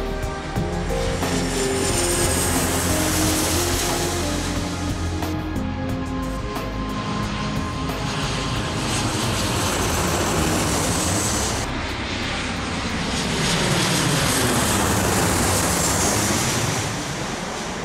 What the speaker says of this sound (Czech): místním obyvatelům běžně přímo nad hlavou lítají velký dopravní letadla